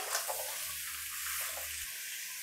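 Onions frying with whole spices in a pan, a faint steady hiss and sizzle with a low hum underneath that cuts off near the end.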